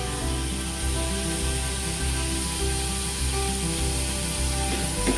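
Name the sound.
chopped tomato and ginger-garlic paste added to hot pan, sizzling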